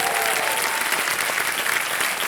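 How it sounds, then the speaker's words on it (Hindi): A studio audience on Kaun Banega Crorepati applauds a contestant with steady, loud clapping that fills the whole moment. "तालियां बज जाएं इनके लिए"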